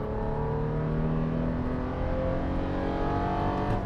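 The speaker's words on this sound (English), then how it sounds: "It doesn't sound bad, and it kind of hauls." A 2019 Toyota 4Runner TRD Pro, a 4,600-pound SUV with a V6 engine, accelerates hard with a steady, rising engine roar heard from close by, sustained and without any talking.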